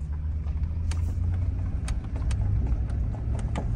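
A 2003 4x4 with a 4L60E automatic transmission that won't shift runs steadily, giving a low, continuous engine rumble with a few faint clicks on top and no speech.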